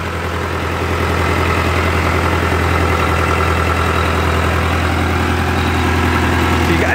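A steady, low diesel engine of a DigiTrac PP51i 60 hp tractor idles evenly with a constant rumble and slight vibration, no revving, heard close and alone.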